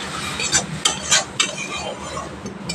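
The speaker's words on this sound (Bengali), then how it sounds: "একদম অল্প পরিমাণ জল দিয়ে মশলাটা কষিয়ে নিতে হবে।" Spice masala being stirred and fried with a little water for an onion-paste katla fish curry, a spatula scraping the pan in quick strokes over a steady close sizzle.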